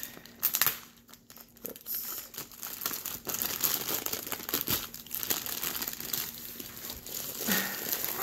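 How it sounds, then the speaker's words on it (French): Plastic bag holding a diamond painting canvas being opened, a close, quiet crinkling and rustling of plastic with a few sharper crackles and tears throughout. "La toile est venue dans un sac comme d'habitude que je vais ouvrir."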